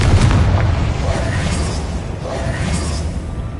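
A loud Confringo blast from Hogwarts Legacy erupts at once into a deep rolling boom, sustained low rumble filling the whole stretch, close and heavy with no talk over it.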